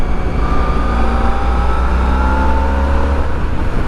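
A Honda ST1300 motorcycle engine pulling under light throttle on a twisty road, a loud, steady low drone with a slowly rising pitch and constant wind rush throughout.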